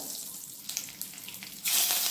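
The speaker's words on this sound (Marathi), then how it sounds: "कढीपत्ता टाकते" Curry leaves hit hot oil in a tempering for a matki sprouted-bean curry, giving a few crackling pops before a sudden loud, close burst of sizzling that holds steady.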